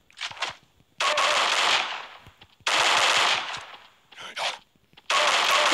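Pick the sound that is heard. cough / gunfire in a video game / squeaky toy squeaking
gunfire in a video game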